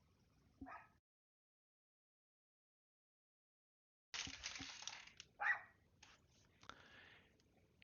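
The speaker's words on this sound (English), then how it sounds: "my dog is barking outside the window." A dog barking outside a window, heard indoors as a faint, muffled yelp early on, then a cluster of sharper barks after a silence, moderately distant and unaccompanied by talk.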